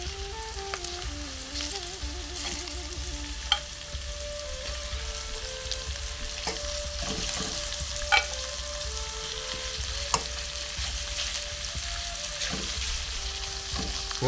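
Beef frying in hot oil and being stirred, a steady close sizzle running throughout, with occasional sharp scrape and clatter accents from the stirring.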